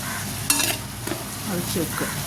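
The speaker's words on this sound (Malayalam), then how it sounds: "ഒരു സവാളയും ചെറിയ ഉള്ളിയും പച്ചമുളകും എല്ലാം കൂടിയിട്ടൊന്ന് വഴറ്റിയെടുക്കാം" Sliced onion, shallots and green chilies sautéing in a pan, a dense close sizzle broken by several scraping stirs of a spatula against the metal, with no voices.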